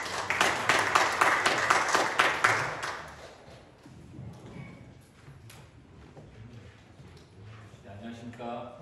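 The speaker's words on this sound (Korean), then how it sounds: "큰 박수로 맞이해 주시기 바랍니다." A seminar audience at a construction policy forum applauds to welcome a professor presenter, a few seconds of brisk, dense clapping that dies away into quieter room sounds and speech.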